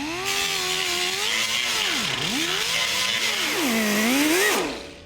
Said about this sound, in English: just cut off the draw pin and grind away what's left